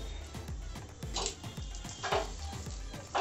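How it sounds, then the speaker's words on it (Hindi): Paratha frying in ghee on a hot tawa griddle, a soft steady sizzle with a quick regular ticking rhythm and a few brighter crackling flares, faint and close with no talking. "हमने पराठे को डाल दिया तवे पर"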